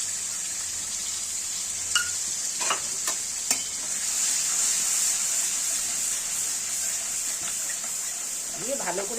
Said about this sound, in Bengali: মশলাগুলো দেখুন ঠিক দিয়ে দিয়েছি কষানোর জন্য।